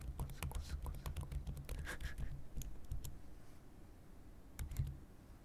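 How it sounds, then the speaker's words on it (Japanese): Typing on a thin computer keyboard, quick soft clicking keystrokes in bursts and pauses, close and quiet against a hushed background. "薄いキーボードに変えました。"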